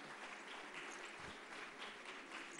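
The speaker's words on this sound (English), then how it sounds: "I think that deserves a round of applause." Applause from an audience at the Mumbai International Film Festival 2014 closing ceremony, a steady, even wash of many hands clapping, heard somewhat distant and soft.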